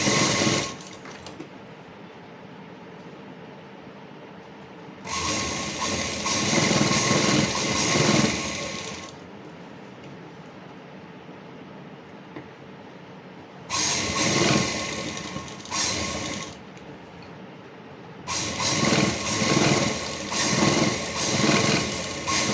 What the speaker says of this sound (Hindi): बाजू की जो फिटिंग है वो लगाने के बाद हम इसके ऊपर सिलाई कर लेंगे।